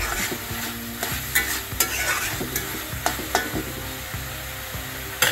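Dried shrimps roast in oil in a pan, with a steady sizzle under repeated spoon scrapes and knocks against the metal, close up, over a faint background of music.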